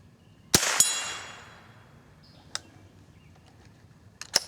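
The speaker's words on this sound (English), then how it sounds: "let's shoot that bunny rabbit on the far right again. Let's see if we can hit him right in the head." A .22 rimfire rifle firing at steel rabbit and squirrel silhouette targets outdoors: sharp cracks with a ringing tail, two close together at first, then single shots spaced a couple of seconds apart. No one talks.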